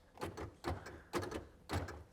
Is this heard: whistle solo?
no